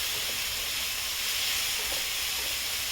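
Steady hiss of whole spices, Kashmiri red chilli and kasuri methi roasting in hot oil for masoor dal tadka, a constant close sizzle with no talking.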